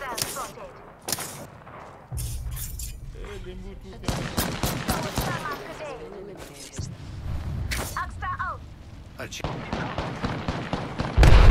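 Gunfire in the video game Apex Legends comes in repeated sharp, broadband bursts and rapid volleys, loud and close, with excited talk between the shots.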